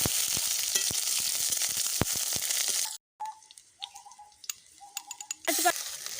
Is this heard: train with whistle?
no